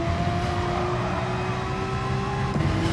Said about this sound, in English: I'm getting that little bit of wheel spin, but what I'm also getting while it's bouncing off the limiter is just that little bit of acceleration